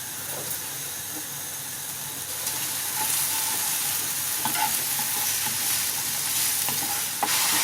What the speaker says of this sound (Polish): Podajemy cebulkę i musimy ją sobie tak zeszklić.